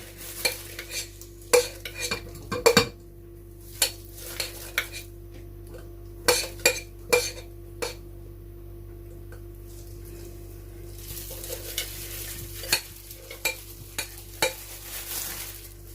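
Grated carrots being stirred with water or a solvent in a container, giving repeated light clinks and scraping knocks in an irregular rhythm against a steady low background hum, close by and with no talking.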